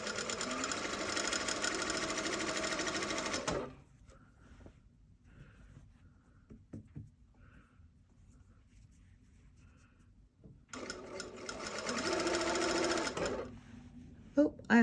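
A sewing machine stitches fabric for a pair of pants, running in a steady buzzing burst that stops, leaves a quieter stretch with small handling noises, then runs again in a second burst.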